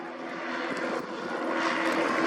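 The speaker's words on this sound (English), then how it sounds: "Fred Fidelaro just went by with his airplane." A WWII-era L-bird propeller airplane passes at a World War II weekend event, its engine a steady, loud drone that swells slightly as it goes by.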